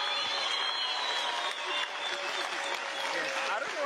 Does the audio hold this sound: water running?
no